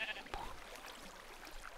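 A sheep from the Minecraft video game gives a brief bleat, faint against a quiet, slightly noisy background.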